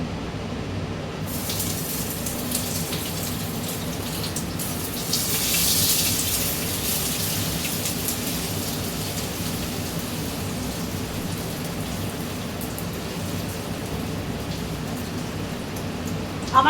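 Ginger sizzling in hot oil in a pan over low gas, a steady dense crackle and hiss that holds evenly throughout, close and fairly loud, with no one speaking.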